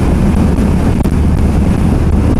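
A motorcycle cruising fast near 120 km/h on a smooth expressway gives a continuous loud roar dominated by wind rush buffeting the microphone, with no breaks.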